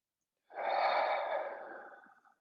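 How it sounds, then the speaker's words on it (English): A single deep, full breath during a guided meditation, a long breathy exhale that begins abruptly after a short silence and slowly fades, close and alone with no talking. "taking a couple of deep, full, deep, complete inhales and exhales."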